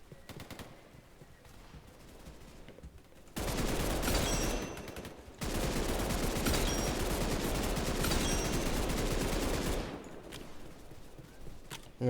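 Rapid automatic gunfire from a weapon in a shooter video game, sustained bursts of loud, dense shots with a short pause between them, framed by quieter game ambience.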